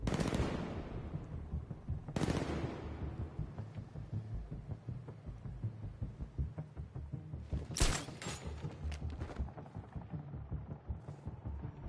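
Gunfire in a Batman video game: two sharp loud shots open the clip, followed by a stretch of rumbling action noise and a further burst of rapid shots near the end.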